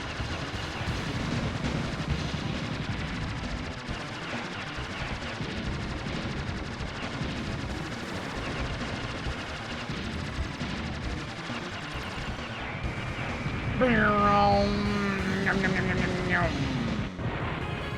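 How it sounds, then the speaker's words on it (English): Arcade shoot-'em-up Aero Fighters plays as a battleship is bombed: dense rapid gunfire and explosions run throughout, followed by a louder burst of descending electronic tones near the end. "we're bombing this battleship"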